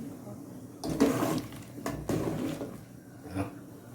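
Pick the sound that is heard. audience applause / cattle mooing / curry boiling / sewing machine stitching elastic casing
curry boiling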